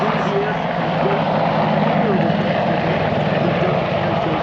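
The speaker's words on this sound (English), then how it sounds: "followed by a current Air Force helicopter, the Apache" An Apache attack helicopter flies at the Dayton Airshow, giving a loud, steady rotor and engine roar that fills the whole stretch, with a commentator's voice over it.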